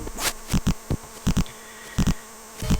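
Bees buzzing in the Ultima 7 video game, coming in short repeated bursts of droning with brief gaps between them, fairly loud and with no talking.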